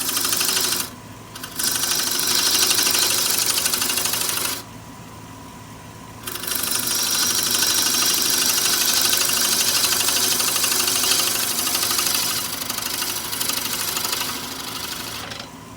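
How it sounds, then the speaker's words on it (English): A half-inch bowl gouge cuts wood on a spinning lathe, a loud continuous rough shearing hiss broken by two brief pauses when the tool lifts off. "Come back to the 1/2 inch bowl gouge. I want to round this corner off."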